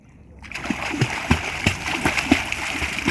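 Water splashing and sloshing from a person swimming in the Ganges River during a holy bathing outing, a steady run of repeated splashes close by with a few sharper slaps, starting after a brief quiet moment.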